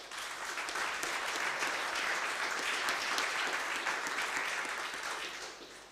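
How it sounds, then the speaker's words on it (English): An audience applauds after a talk, dense steady clapping sustained for several seconds before tapering off at the end. "So first of all, again, a great applause to Trent."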